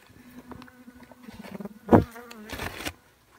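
Close buzzing of wild bees nesting in a rental house, a droning hum that rises and falls, with a louder burst midway and fading near the end.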